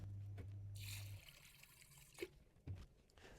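Water pours steadily into a container for a Monstera deliciosa cutting for about a second, then trickles and drips a few times, faint and close with no talk.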